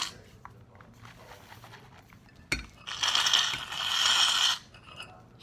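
A can of shaving foam is shaken hard while making soap slime, producing a dense, loud rattling burst of about two seconds after a single sharp knock.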